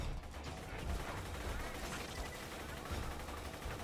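Shredifier assault rifle from Borderlands 2 firing in a sustained, rapid automatic stream, dense and loud throughout with no pauses, amid game combat noise.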